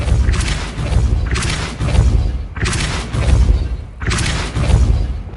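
Depulso force-push spell blasts in the Hogwarts Legacy video game: four loud, booming bursts with deep thuds, arriving roughly every second and a quarter in a steady repeating rhythm.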